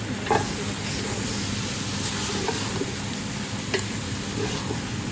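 Beef curry is stirred in a hot pan, a steady close sizzle and frying hiss with occasional soft scrapes and taps from the spoon, no talking.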